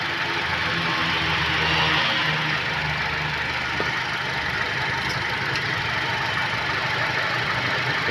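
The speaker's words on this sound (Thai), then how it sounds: "ฟังเสียงเครื่องกันนะครับ" A 2017 Honda CR-V engine runs at idle, a steady close hum with a faint ticking texture, held evenly throughout, with no talking.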